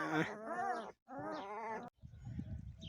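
A sheep bleats twice up close, two wavering calls in quick succession, followed by soft rustling and shuffling.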